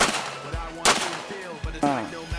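Gunshots crack during night combat shooting practice under moonlight: two sharp, loud reports stand out, with a voice speaking between and around them.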